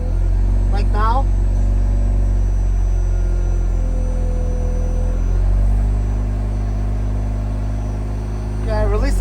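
A Mazda RX-8 rotary engine idles low at about 1,000 rpm as the clutch is released, a steady close rumble throughout with a person talking over it.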